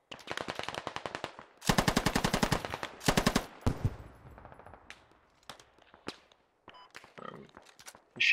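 Bursts of PKP-Pecheneg machine gun fire in the Squad video game on a hillside firefight, a long rapid stream followed by shorter bursts, then scattered distant single shots and faint radio-style voices.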